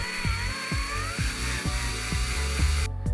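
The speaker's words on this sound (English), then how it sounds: "here's where that number 6 drill tap comes into place. This will put threads into that hole for me" A number 6 tap powered by a drill cuts threads into a hole for mounting motherboard standoffs, giving a steady whirring grind with regular rhythmic pulses about twice a second, loud and close, ending with a brief pause.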